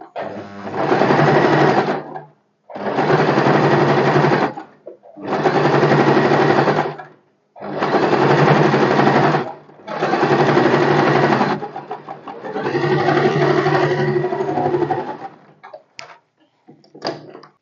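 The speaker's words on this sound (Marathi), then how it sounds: "अस्तरच्या एकदम कडेने दाब शिलाई मारून घ्यायची" A sewing machine runs in five long bursts of rapid, even stitching along the edge of a blouse lining, with short pauses between runs and a rougher final stretch trailing into faint handling noises.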